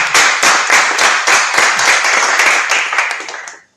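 Loud, close audience applause for teams at a conference session on climate crisis information, brisk continuous clapping that fades out abruptly at the end.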